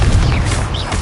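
Confringo fire blast spell going off in Hogwarts Legacy, a short low booming rumble that stays loud and steady for about a second amid battle effects.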